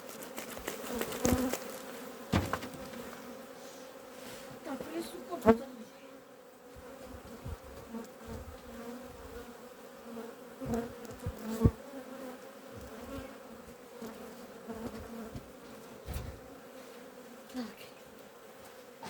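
A dense swarm of honey bees hums steadily around an apiary hive, with occasional louder buzzes as individuals pass close, and brief clicks and bumps of hive frames now and then.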